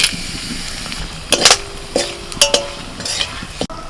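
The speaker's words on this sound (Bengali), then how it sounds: "ফোড়নে দিচ্ছি শুকনো লঙ্কা তেজপাতা আর গোটা গরম মশলা" Dried chillies, bay leaves and whole garam masala crackling in hot oil with a steady close sizzle, punctuated by a few sharp spatula scrapes and metallic clinks against the pan.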